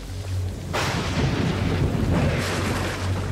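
A huge tropical storm tears through an island camp: heavy rain roars steadily while deep thunder rumbles and surges in loud waves, with no voices.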